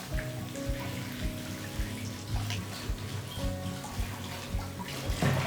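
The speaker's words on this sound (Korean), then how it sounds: "그냥 물에 한번 이렇게 씻어요." Korean pickled cucumbers (oiji) are rinsed briefly under a running kitchen tap, a steady splashing and trickling stream with scattered drips and light knocks, near and moderately quiet, with no one talking.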